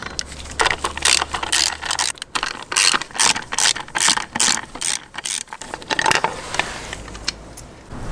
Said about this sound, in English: we will use a 5 hex key to remove this cover, 2 bolts